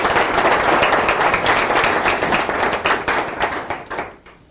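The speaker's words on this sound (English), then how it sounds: "So now, go on, may I lead the applause?" Audience applause at a business gathering, steady and full for about four seconds before thinning out and fading at the end.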